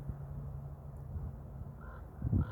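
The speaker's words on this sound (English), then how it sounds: "The birds is enjoying. They're just flying in circles." Crows caw a few times on a hot day while circling overhead, faint and distant calls over a low background hum, with one louder harsh caw near the end.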